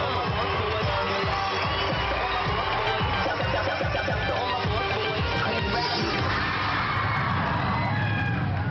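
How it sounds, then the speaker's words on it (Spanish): Talent show audience giving a standing ovation: a loud, continuous roar of cheering, clapping and shouting from a large crowd, steady throughout with no pauses. "No ganó, pero la aplaudieron de pie"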